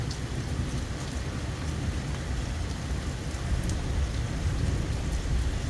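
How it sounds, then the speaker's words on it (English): Rain falls steadily during a storm, a dense, even hiss and patter that holds at the same fairly loud level throughout, with no voices. "within the next 5 milliseconds, I get hit with rain"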